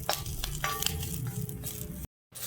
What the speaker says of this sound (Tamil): கருவேப்பிலை நல்லா ரோஸ்ட் ஆகிற மாதிரி நல்ல முற முற முறன்னு ஆறா மாதிரி நம்ம வறுத்து எடுத்துக்கலாம்